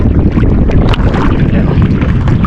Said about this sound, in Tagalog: lumakas yung mahangin ba